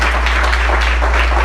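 Congregation applause in a church service, a short wash of many hands clapping at once, steady and moderately loud, with a constant low electrical hum underneath.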